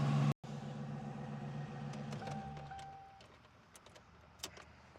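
A car engine idles steadily just after an oil change, a low close rumble that fades and winds down partway through as it is shut off, leaving quieter background noise with a few light clicks.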